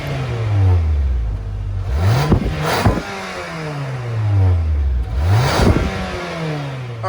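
A 2022 Nissan Altima S with a 2.5-liter four-cylinder engine revs up twice, rising sharply then falling back toward idle, loud and close with no talking.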